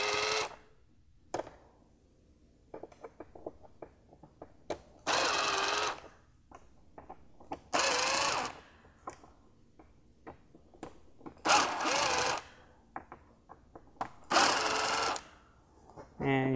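A cordless driver loosens T25 Torx screws around the air box of a VW 1.8t engine, giving several loud whirring bursts spaced a few seconds apart with small clicks in between.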